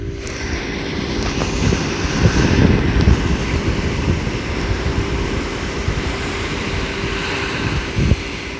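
Strong wind buffets the microphone at Madora Bay beach, a loud steady low roar with gusty swells that masks any surf, no voices heard.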